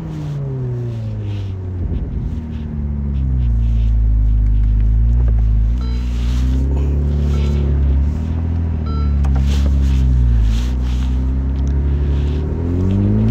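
A 2023 Ferrari 296 GTS engine runs in performance mode with a loud, close, continuous growl whose pitch rises and falls through several revving swells over about thirteen seconds, with no voices.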